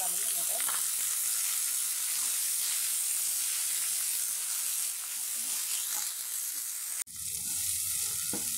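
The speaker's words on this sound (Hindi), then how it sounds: "इसमें हम डाल देंगे अदरक जो हमने बारीक काट कर रखी थी, इसको हल्का सा फ्राई करेंगे।" Finely chopped ginger and green peas fry in a pan with a loud, steady, hissing sizzle up close. Near the end there is a sudden break, then the frying carries on in a quieter, crackling way.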